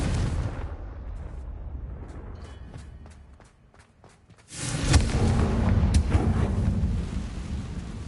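A Confringo fire spell explodes in Hogwarts Legacy. Rumbling ambience and a few soft taps fade, then a loud, sudden blast erupts and settles into a sustained roaring, crackling wash.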